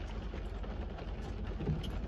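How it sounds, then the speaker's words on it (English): Steady rain falls outdoors, a dense, even hiss of drops filling the whole span at moderate level, with no voices. "Because it's raining."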